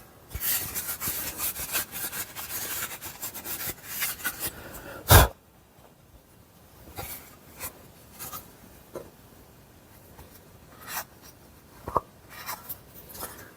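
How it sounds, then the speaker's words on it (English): An old sewing machine treadle part being wiped out with a cloth, heard as close, soft rubbing and scraping strokes, busier at first and then sparse, with one sharp knock partway through. "I'll just wipe it out with a cloth"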